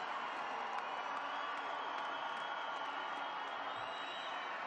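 Home crowd at a Georgia versus Portugal rugby match in Tbilisi cheering a Georgia try, a broad, sustained roar of many voices with applause, distant and even throughout.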